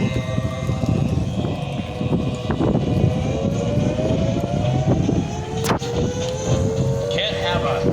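An F4U Corsair at the Dayton Air Show banks back around toward the runway, its piston engine a steady, loud drone with a slowly rising pitch for the whole stretch, over a busy outdoor background.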